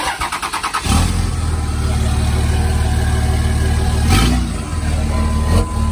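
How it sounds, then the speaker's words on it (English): A 2003 Dodge Ram 2500 with the 5.9L engine cranks with a few rhythmic starter chugs, then fires and settles into a loud steady idle, with a brief rev swelling partway through. "Well, the motor revs up."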